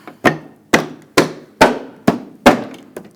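Six sharp, evenly spaced taps drive a front bumper bracket into place on a 2014–2018 GMC Sierra, each hit ringing briefly and close with no talking.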